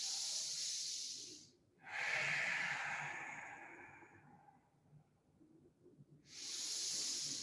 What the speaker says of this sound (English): Low belly breaths.